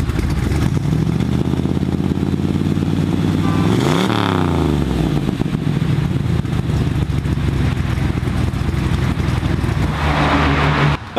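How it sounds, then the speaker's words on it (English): A 1969 Camaro Z28 rumbles loudly from behind its exhaust, idling deep with a quick rev that swoops up and drops back, then settles into a heavy, steady throb. "let you see what the exhaust sounds like from behind"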